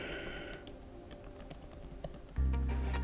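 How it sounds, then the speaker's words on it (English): Steady clicking of typing on a computer keyboard, irregular soft keystrokes close up, with a loud low hum starting abruptly near the end. "I'll start typing my names"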